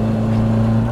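A Honda Civic B16 engine revving toward 8,200 rpm gives a loud, steady drone with strong low harmonics, held at a constant high pitch throughout, close and continuous with no talk.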